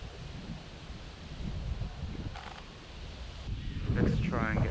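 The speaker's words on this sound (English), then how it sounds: "Thankfully the wind is coming this way." Wind blows steadily outdoors among trees, a low continuous rumble against the microphone that swells toward the end, with faint rustling over it.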